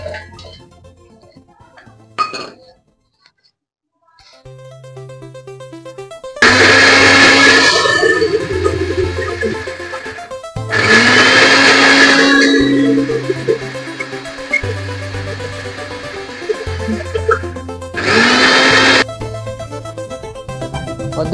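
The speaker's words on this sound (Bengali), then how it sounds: "এবার এটাকে আমরা মিক্সারের মধ্যে দিয়ে কদ্দুকস করে নেবো।" A kitchen mixer grinder grates fresh coconut in loud whirring bursts, three main runs of a few seconds each with shorter pulses between, close and alone without talk.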